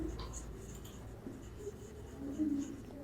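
Chalk or marker writing on a classroom board during a history lesson, a few short scratchy strokes close by, with faint voice in the background.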